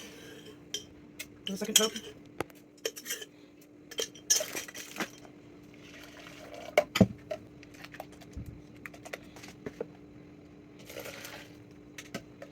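Dissolved coffee poured into glass cups brings sharp clinks and taps of glass and a spoon, scattered irregularly and fairly close, with someone speaking briefly in between.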